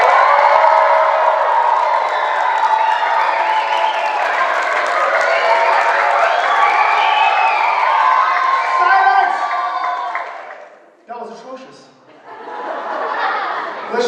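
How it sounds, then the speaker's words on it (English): A large audience at a black belt martial arts event cheers, whoops and applauds loudly for about ten seconds on cue, then fades into a brief pause before a second burst of cheering. "I want you to cheer really loud"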